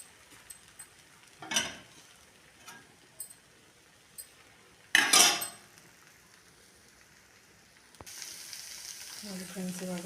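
Ragi dosa batter meets a hot griddle pan with a sudden, steady sizzle that starts partway through, after a few scattered clicks and brief clatter, close and moderately loud.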